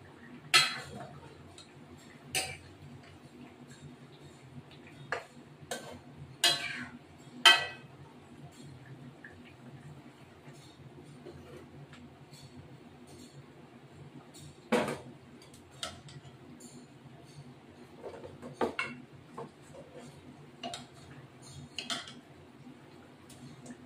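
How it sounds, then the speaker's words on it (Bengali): A metal ladle mashes green chillies in a pan of rohu fish curry, giving scattered light clinks and taps against the pan over a quiet background, some close together and others spread apart. "লঙ্কাগুলো হাতা দিয়ে একটুখানি ডলে দেবো, তাহলে ঝোলটা গাঢ় হয়, ভালো হয়।"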